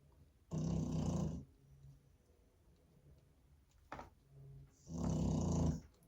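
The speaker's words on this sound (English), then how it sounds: "I'm so sorry about this snoring." Snoring from a pet dog, two long raspy breaths close by separated by a quiet pause, fairly soft in an otherwise still room.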